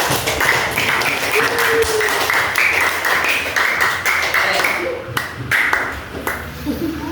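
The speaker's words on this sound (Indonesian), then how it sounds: "Tepuk tangan untuk kelompok semua kelompok ya." A classroom of students claps for all the groups, a close, rhythmic round of hand claps that thins toward the end, with voices and some tapping beneath.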